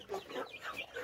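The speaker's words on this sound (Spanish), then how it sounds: "las gallinas, las aves están en la jaula" Chickens in a cage cluck continuously in a dense, overlapping chorus of short, close calls with no pauses, no voices heard.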